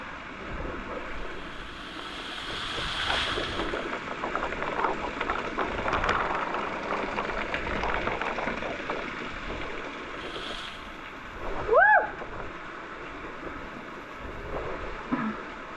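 Water from an underground waterfall rushes steadily inside a cave, a continuous broadband roar lasting throughout, with a brief squeaky tonal sound near the end.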